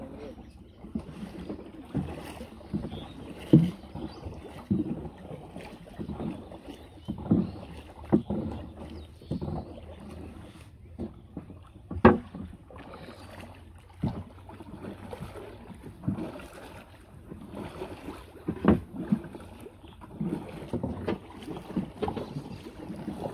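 A rowing boat moving along on the water in a village, with repeated splashes and knocks of the oars in an uneven rhythm and faint voices here and there.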